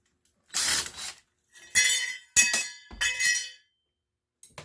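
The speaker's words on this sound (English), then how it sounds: "Piece of light iron that just fell on the ground." A piece of light iron from a scrapped circulator pump drops onto the ground with bright metallic clinks, several quick rattling bounces over a few seconds, close and clear with no talking.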